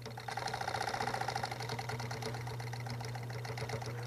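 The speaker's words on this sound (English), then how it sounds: "I'm going to try and stitch a straight yet curved seam." A sewing machine runs steadily, stitching a curved seam in furniture upholstery, giving a close mechanical hum with a fast rattling needle rhythm and no voices.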